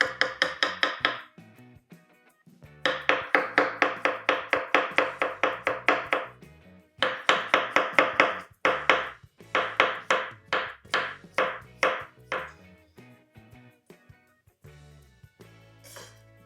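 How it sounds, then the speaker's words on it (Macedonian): A knife slices two onions into rings for a fish aspic, giving close, crisp chopping strokes in quick even runs, broken by short pauses, with no talking. "Две лукчиња, ќе ги исецкаме на листови."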